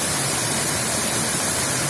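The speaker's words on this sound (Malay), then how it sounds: "Air terjun." A waterfall in Sabang, Aceh gives a steady, dense broadband rush of falling water, continuous and fairly loud throughout with no voices.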